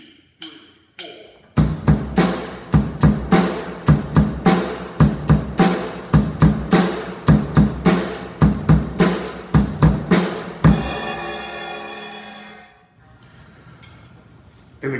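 Basic rock drum beat on a kit, bass drum doubled with two hits, played at an even tempo with bright hi-hat eighth notes and punchy snare and kick for about nine seconds before cymbals ring out. A voice counts in briefly beforehand.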